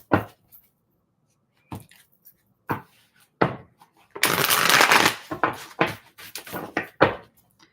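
Tarot cards are shuffled by hand in quick, crisp riffles and taps, with a longer flurry of shuffling in the middle and brief pauses between strokes.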